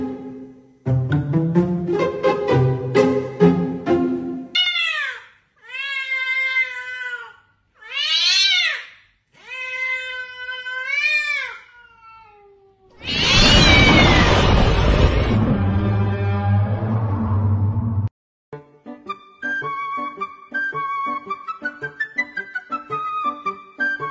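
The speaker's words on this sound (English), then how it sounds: "What the fuck is that, a fucking cat?" Repeated loud cat meows, several drawn-out tonal cries in a row, set among music and other noises, with no talk over them.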